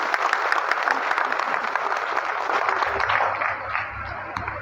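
Audience applause at a BJP political gathering in honour of former MP Ram Narayan Sahu: dense, steady clapping from a large crowd throughout, close and loud, easing slightly near the end.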